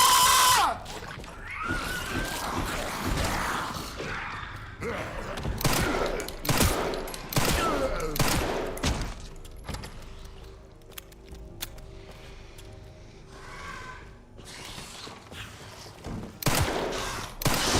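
Gunshots fired during a police body cam encounter crack out in sharp, loud volleys, several bursts close together with shouting and screaming voices between them.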